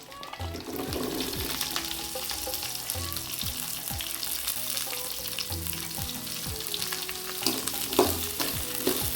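Onions and curry leaves frying in oil in a pan for Madurai-style mutton chukka: steady, close sizzling throughout, broken by repeated scraping stirs of a spoon against the pan, with no talking.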